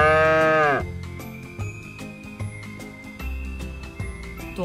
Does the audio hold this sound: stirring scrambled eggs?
no